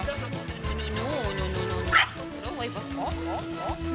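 Several dogs bark and yip nearby, short sharp calls scattered among whimpers, with people talking underneath.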